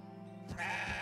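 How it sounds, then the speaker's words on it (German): A goat bleats once in the action RPG CrossCode, a short, nasal, wavering cry that swells toward the end, close and fairly quiet, with no talk. "Gute Ziege."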